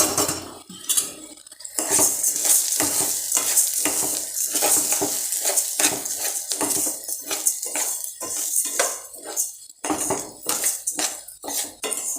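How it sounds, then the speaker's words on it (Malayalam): Rice roasting in a pan for egg biryani, with a spoon scraping and stirring steadily against the metal in quick repeated strokes over a constant low sizzle; close and fairly loud, with no voices. "ഇപ്പം നമ്മുടെ അരി ഒന്ന് റോസ്റ്റായി വന്നിട്ടുണ്ട്"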